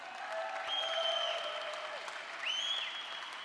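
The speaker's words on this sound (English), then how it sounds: "Give them a round of applause, guys." A crowd applauds the men's doubles champions at an indoor pickleball national championship, with steady clapping from a moderate distance and a few whistles rising over it.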